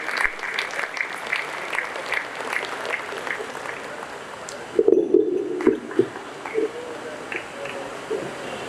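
An audience at a panel discussion applauds a panelist with a steady wash of clapping, and a voice begins speaking over it partway through.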